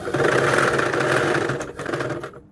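A sewing machine stitches a child's frock with a steady, close mechanical whir that runs continuously for about two seconds, then cuts off abruptly near the end.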